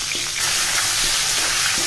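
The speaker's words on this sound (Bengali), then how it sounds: "দিয়ে মাছের মাথাটাকে খুব ভালো করে ভেজে নেব।" A large fish head rubbed with salt and turmeric fries in hot oil, giving a continuous bright, hissing sizzle with faint crackles, close and fairly loud for about two seconds, with no talking.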